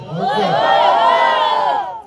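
A crowd at a political party event in Bhandup lets out one loud, sustained cheer of many shouting voices, close and strong, for about two seconds.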